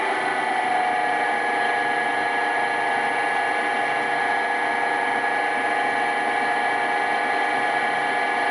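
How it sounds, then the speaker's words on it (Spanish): A small three-phase electric motor driven by a frequency drive runs alone with a steady, unbroken electrical whine and hum at constant pitch and loudness. "vamos a ver si el motor emite algún ruido"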